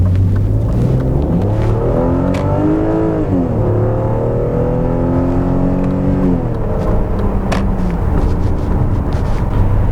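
A BMW Alpina B10 3.3 E39 drives on the road in D mode, heard from inside the car. Its engine hum is loud and continuous, the pitch rising and falling as the revs change, and there is no talking.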